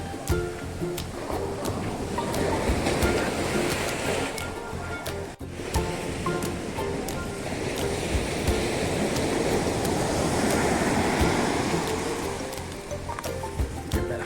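Ocean waves crash and surge continuously, a loud, broad roar of surf that swells and recedes with a brief dip midway.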